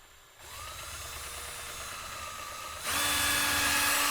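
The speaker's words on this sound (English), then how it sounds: "Give it a little tap and drill slowly." A power drill whirs up, runs at a steady pitch, then speeds up to a louder, higher whine as it bites in.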